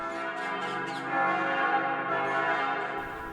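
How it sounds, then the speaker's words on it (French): Church bells of the Church of the Dormition of Mary in the Holy Land ring in a full, continuous peal, their overlapping tones sustained and resonant, heard from a moderate distance. "les cloches de l'église de la Dormition de Marie sonnent à toute volée"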